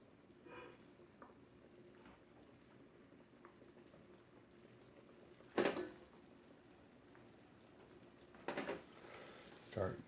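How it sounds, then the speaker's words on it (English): Shallot frying in melted butter over medium-low heat, a faint steady sizzle with a few louder stirring scrapes, heard close in a quiet kitchen. "Okay, our butter's starting to melt down here, so I'm going to go ahead and add our shallot to it."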